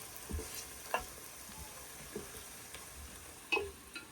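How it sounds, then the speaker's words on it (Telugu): Turmeric and fenugreek powder masala cooking in a pan, a low steady sizzle with a few sharp scraping clicks of a spoon stirring at intervals, close and quiet with no voices. "పసుపు, మెంతి పొడి వేసిన తర్వాత చూసారు కదా ఎలా మగ్గుతుందో"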